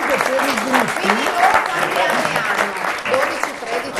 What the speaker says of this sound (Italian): Un bel applauso allora a queste ragazze.